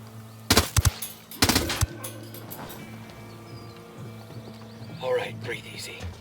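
An enemy turret machine gun fires in Ghost Recon Wildlands. Two loud, rapid bursts come close together near the start, then quieter gunfire and game sounds follow under voices.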